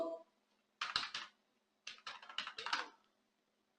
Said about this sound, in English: For that I'll type Puppet module install